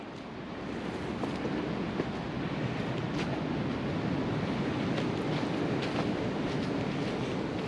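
Steady broadband wind rushing and buffeting against the microphone on a winter countryside walk, continuous and loud throughout with small gust bursts, no voices.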